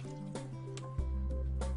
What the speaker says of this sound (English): Pour 5 liters of clean water into a Stopgap mixing bucket